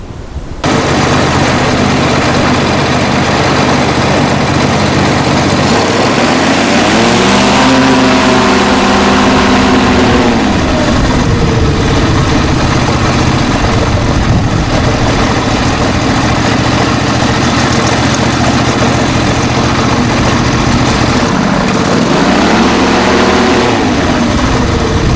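A Kohler two-cylinder four-stroke ultralight aircraft engine idles loudly and steadily up close with a low throbbing drone. Its revs rise and fall twice during the run.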